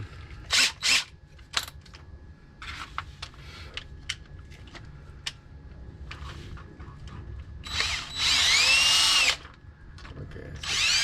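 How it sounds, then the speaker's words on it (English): A power drill bites into a plastic skeleton bird from a discount store in short bursts: a few quick whirs early on, scattered clicks and handling noise, then a longer, louder run of the motor near the end. "My drill bit is dull, so let me get another one."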